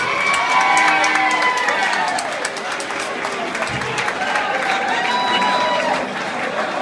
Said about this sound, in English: Applause for Bonesy.